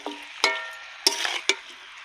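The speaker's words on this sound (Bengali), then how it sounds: "ভালো করে নেড়ে চেড়ে আমি একটু ঢাকা দিয়ে দেব" Chicken kosha stirred in a pan, with a few sharp metallic scrapes and clinks of a spatula against the pan over a soft sizzle, close and brief, no talking.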